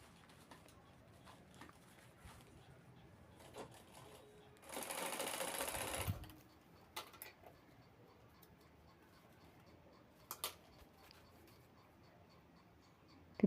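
A sewing machine runs in one loud, steady burst of about a second and a half, stitching the corners of a handmade fabric handbag, then stops. Faint taps and rustles fill the quiet around it.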